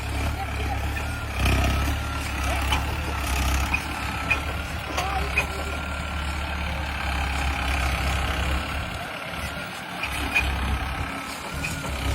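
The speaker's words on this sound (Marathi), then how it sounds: "आलं आलं आलं दुसरं ट्रॅक्टर" A tractor rolls onto farmland in Maharashtra, its low diesel engine rumble steady and fairly close throughout, with faint beeps and clanks over it and voices talking in the background.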